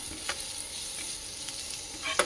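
Onion, garlic and red chili sizzle softly in a pan while being stirred, giving a faint, steady frying hiss broken by a few light spoon scrapes against the pan.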